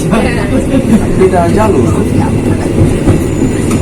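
A train rumbles past close by in Indonesia with rhythmic clattering of wheels, while a voice speaks briefly over the steady noise.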